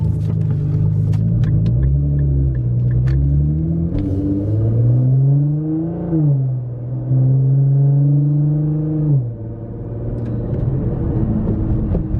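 A stock Nissan Nismo Z driving, its engine a loud, steady low drone from inside the cabin that rises and falls in pitch as the car shifts and accelerates.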